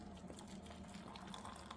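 Hot water from a cordless 1500W stainless electric kettle pours steadily into a cup, a continuous close splashing fill with no talk.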